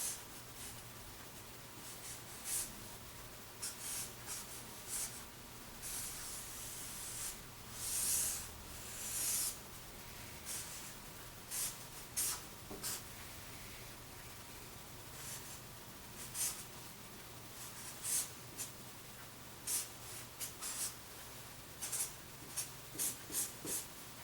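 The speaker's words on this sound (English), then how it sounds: "I'm going to try drawing a picture of Mr." Pencil or pen on paper scratches and strokes at close range in irregular short bursts with quiet gaps between them, while a picture is sketched by hand.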